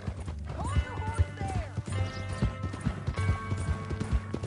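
Horse hooves clip-clop in a Western video game, a steady, close rhythm of hoofbeats with a brief whinny early on, over low ambient rumble.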